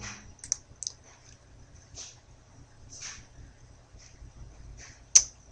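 Soft, sparse clicks of a computer mouse tap out at irregular intervals during a Microsoft Word tutorial, with one sharper click near the end against a quiet background.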